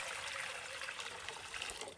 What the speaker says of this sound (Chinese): 紧接着将清水倒入锅中